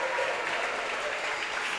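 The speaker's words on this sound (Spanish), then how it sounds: "Dale un fuerte aplauso al Señor" Church congregation applause, a dense wash of many hands clapping together, fairly soft and steady throughout.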